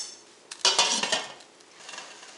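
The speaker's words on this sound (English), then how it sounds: "I'm going to stir that lemon juice in, and I'm going to put a lid on this and let it come up to temperature." A spoon scrapes and clinks against a pot while lemon juice is stirred into muscadine juice for homemade jelly, a few close metallic knocks and swishes in a quiet kitchen.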